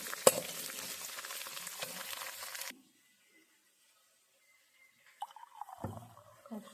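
Loud, close sizzling and crackling of onion, curry leaves and mustard seeds hitting hot oil for a few seconds, then it cuts to near silence followed by soft stirring and clattering.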